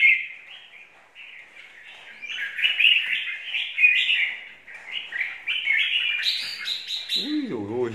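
A caged songbird sings nonstop, pouring out rapid, bright chirps and trills close by, with a voice briefly breaking in at the very end.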